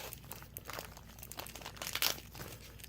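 Crinkling and crunching of plastic blister packaging being cut open on a Grossery Gang toy pack, a steady close run of small crackles and snips with one louder tearing burst near the end.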